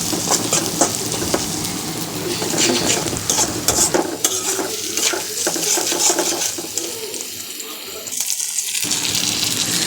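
Mashed bamboo leaves being stirred and mixed with a little salt by hand, a steady dense wet squelching and scraping that runs continuously, with a brief pause near the end.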